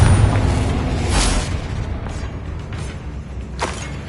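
A Confringo spell explosion in Hogwarts Legacy lands as a loud, deep rumbling blast, fading into a low mechanical roar, with a couple of sharper cracks and booms following alone.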